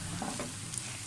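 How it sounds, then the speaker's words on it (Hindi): Carrots stir-fried in a pan for egg fried rice give a steady low sizzle with a few soft scraping stirs, close and continuous with no voices. "अब हमने गाजरों को अच्छी तरह से भून लेना है"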